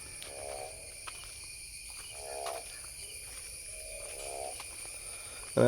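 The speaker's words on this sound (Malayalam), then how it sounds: "അവിടെ തവള കയറുന്ന സൗണ്ട് കേട്ടോ കൂട്ടുകാരെ" A frog croaks at night in three evenly spaced, buzzy bursts against a steady drone of insects, fairly faint and with no voices.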